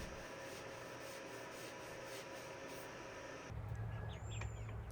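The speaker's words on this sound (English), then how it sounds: "Using the Mylan's sanding sealer, applied with a kitchen towel." Soft, continuous rubbing of a kitchen towel applying sanding sealer to a wood bowl, a steady swishing texture, followed by a change to quieter scrubbing with a faint chirp in the background.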